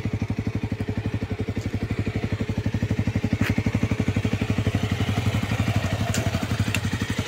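A motorcycle engine idles with a steady, fast mechanical thumping pulse that stays close and even throughout, while one of two bikes waits at a roadside stop in Chinsurah, Hooghly, before a ride to Netarhat.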